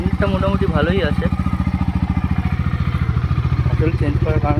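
Close, steady idle of a Bajaj Dominar 250 motorcycle, its quick regular firing beat constant beneath a voice speaking intermittently.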